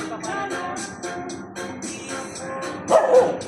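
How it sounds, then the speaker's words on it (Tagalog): Dog up on a fence, barking in a quick run of yips and bow-wows at close range, with a sharper louder bark near the end. "I-video natin yung aso yun."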